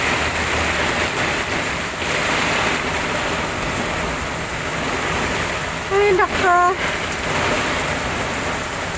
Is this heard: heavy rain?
yes